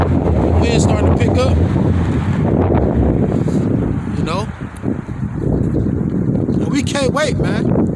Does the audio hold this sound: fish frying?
no